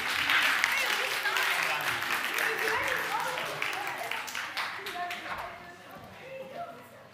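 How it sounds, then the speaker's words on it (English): A church congregation applauds after a game, clapping in a steady dense patter that fades somewhat toward the end, with voices talking over it throughout. "give them a round of applause"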